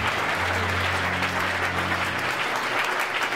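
Sustained applause from a church congregation acclaiming the Lord, a steady dense wash of clapping throughout with low organ or keyboard tones underneath.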